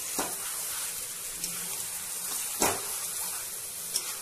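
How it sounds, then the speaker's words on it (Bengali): Mutton sautés with spices in a pan, giving a soft, steady sizzle with a few faint stirring clicks. It is quiet and continuous, with no voices over it. "মাটনটাকে খুব ভালো করে প্রায় 10 থেকে 15 মিনিট ধরে আমি কষিয়ে নিলাম।"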